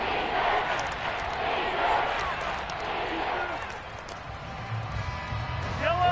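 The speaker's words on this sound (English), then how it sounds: "The crowd getting into it as we come up on a big 3rd down" Football stadium crowd at a Chiefs game roaring steadily ahead of a big third down, a broad continuous wash of voices and cheers that swells and dips, with a sharp whistle-like cry near the end.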